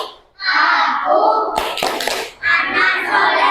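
A classroom of children chant together in loud unison and break into a short burst of rhythmic hand claps partway through, then the group chanting resumes, all close and energetic.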